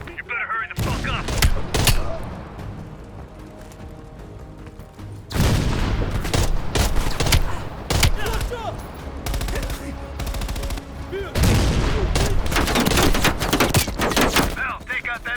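Bursts of heavy machine gun fire rattle through a Call of Duty Cold War battle in repeated loud volleys, with booms and shouted voices mixed in among the gunfire.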